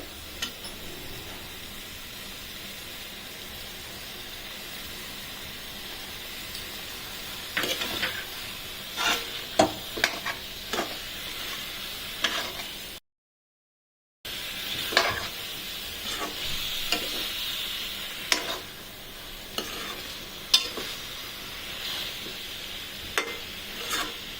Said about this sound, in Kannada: ಜೊತೆ ಸ್ವಲ್ಪ ಫ್ರೈ ಮಾಡೋಣ